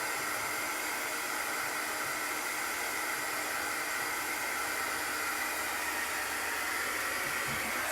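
A hair dryer blows a steady, loud whooshing hiss over chalk paste on a bunny-shaped Easter decoration, running continuously without a break.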